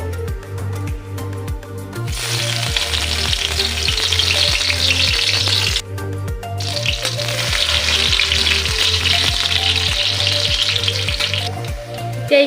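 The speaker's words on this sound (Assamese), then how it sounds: "এতিয়া খিচমিচখিনি ইয়াতে ভাজি ল'ম" Raisins frying in hot refined oil in a pan, a loud steady sizzle broken by a short pause near the middle and punctuated by regular stirring clinks and scrapes throughout.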